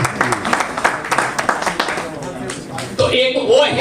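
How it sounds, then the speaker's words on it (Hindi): An audience at a one-day leadership development programme claps in a dense, rapid burst of applause that rolls on steadily, with a voice speaking over it toward the end. "एक बार जोरदार तालियां"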